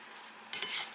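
A spoon stirring food around in a pan on the stove, a brief close scraping swish over a faint background sizzle, with no talking.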